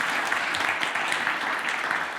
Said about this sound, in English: a big thank you to our panelists, a round of applause